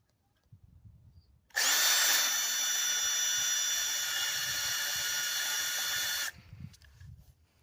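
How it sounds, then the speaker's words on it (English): A power drill pre-drills a hole in a Clayton garden shovel handle. It makes one loud, steady, high whine lasting about five seconds, with quiet handling noise before and after. "Need to pre-drill a hole."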